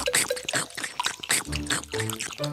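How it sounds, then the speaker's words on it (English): Cartoon frogs drink water on a big leaf, heard as quick drips and small liquid pours scattered among rapid speech and short musical tones. "The 3 frog friends met on a big leaf and started to drink water."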